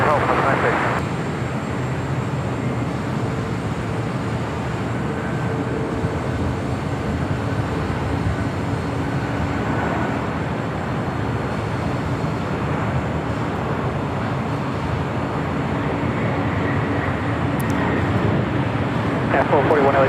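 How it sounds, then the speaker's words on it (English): A FedEx Boeing 767-300 freighter at LAX gives a long, steady roar of jet engines heard at a distance, with a continuous broadband rumble under intermittent radio chatter. "Another FedEx 767 at 300 freighter"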